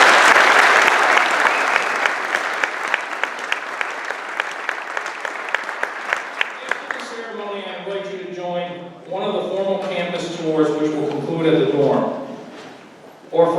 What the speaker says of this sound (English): How about we give those teams a big round of applause?